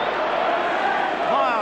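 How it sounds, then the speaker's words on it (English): Crowd roar at a 1986 rugby league match between St Helens and Australia, a broad sustained swell of many voices filling the ground, steady and loud throughout. "the crowd roar on each occasion"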